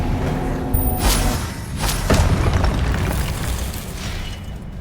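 A Confringo fire spell explodes in Hogwarts Legacy, dense booming blasts and bursting pops over a rumbling bed of game noise, loud and close across a few seconds.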